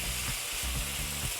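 Chicken and vegetables stir frying in a pan, giving a steady close sizzle with soft periodic stirring scrapes, no voices.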